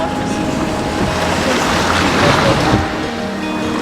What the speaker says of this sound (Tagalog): Kaya ang lakas ng tunog ng alon